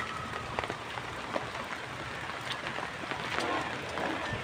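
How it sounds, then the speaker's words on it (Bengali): Heavy rain falls steadily outdoors as a dense, even patter with no clear breaks. "আর আজকে হয়তো সারাদিন এভাবে বৃষ্টি হতে তালে থাকবে"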